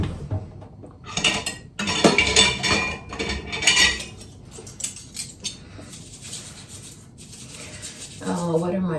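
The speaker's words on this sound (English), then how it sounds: "what are my plans after washing the dishes" Dishes and cutlery clatter and scrape while being washed, with bursts of clinking between quieter rubbing, close and fairly loud.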